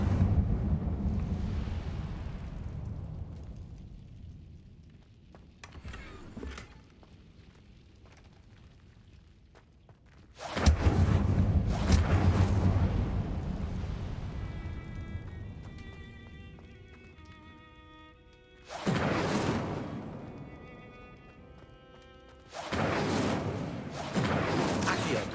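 Incendio fire spell cast in Hogwarts Legacy, heard as several heavy whooshing, roaring bursts that flare up loudly and fade out over a few seconds, with quieter game ambience between them.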